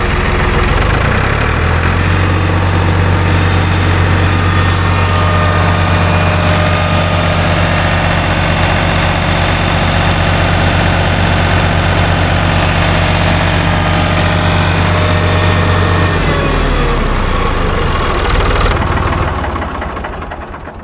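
A Ford 3-cylinder diesel tractor engine runs wide open, a loud, steady, droning roar with a strong low rumble held for many seconds before the revs drop off near the end.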